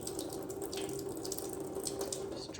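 Water trickling and draining steadily from a freshly watered amaryllis pot, a soft continuous splashing stream close by.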